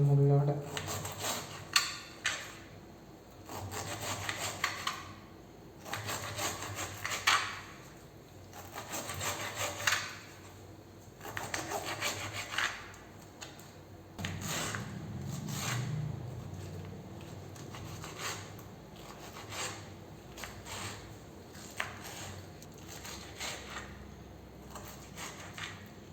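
A knife cuts the spiky skin off a round-cut pineapple, making repeated woody scraping strokes up close, while someone talks over much of it.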